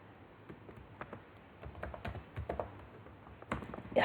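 Keys clatter on a computer keyboard as code is typed for a beginner Python lesson, irregular close taps growing busier toward the end, with no talk.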